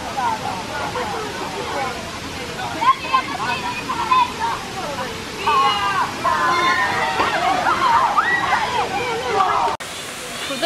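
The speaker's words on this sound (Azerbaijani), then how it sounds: "Burada eşidirsiniz, şəlalənin səsi artıq daha yaxına və daha bərk gəlir." A waterfall in Valle delle Ferriere on an Amalfi hike gives a steady rushing roar that stays constant throughout, while a person talks over it.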